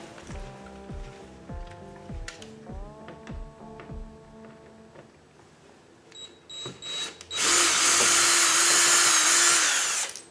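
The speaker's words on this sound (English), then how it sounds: "let's go ahead and take these bolts out" A small Torx bit on a power driver backs out bolts from a Cadillac Lyriq splash guard. Light tool taps and clinks come first, then a loud, steady whir of the driver close by for a few seconds.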